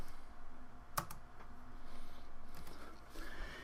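Keys are typed on a computer keyboard while drawing in AutoCAD, with one sharp, distinct key press followed by a few faint, scattered clicks over a quiet room hum.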